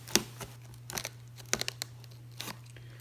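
A Swiss Army knife cuts through box packaging for an HP 23es monitor, giving sharp intermittent crunching and tearing bursts, close and fairly loud against a low steady hum.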